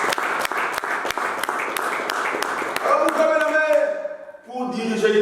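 A church congregation claps in a fast, regular rhythm at close range, with the clapping loud over singing and voices that fade into sustained sung tones.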